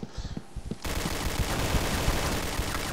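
Rapid automatic gunfire inside the Point Blank online shooter, a dense, loud, continuous burst following a few separate single shots.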